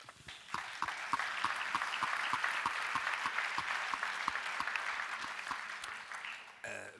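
Audience applause at a health conference on fighting misinformation, a dense steady clapping with a few distinct nearby claps, fading near the end before a voice begins to speak.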